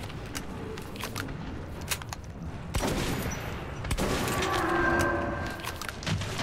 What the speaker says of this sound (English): Excuse me, that is a shotgun to the fucking ear!